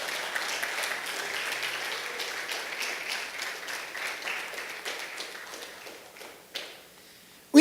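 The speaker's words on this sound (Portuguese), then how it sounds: "Se assim você crê, aplauda Jesus bem forte" A church congregation applauds during a sermon, a dense steady clapping that swells and slowly thins out near the end, moderately close with no talk over it.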